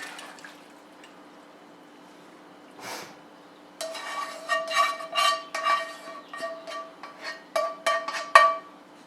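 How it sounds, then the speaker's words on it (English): Cooked noodles for a Polish pork and potato dish are dumped into a pot on the stove after a quiet pause, producing a run of wet clattering splats and scrapes close by. "we're going to take this and we're going to dump it in here"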